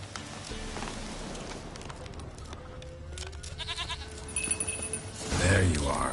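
A goat bleats in The Witcher 3 amid rainy outdoor game ambience, with soft background sounds building to a louder burst near the end.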